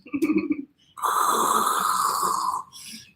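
A loud snoring sound effect: a short rumbling snort followed by a long, harsh drawn-out snore, then a faint trailing breath.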